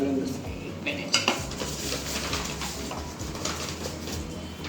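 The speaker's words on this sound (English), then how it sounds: "he's going to cut the cake for you" A birthday cake is being cut, with light clinks and scrapes of a knife and cutlery against plates. The sounds come close and fairly quiet over a murmur of background voices.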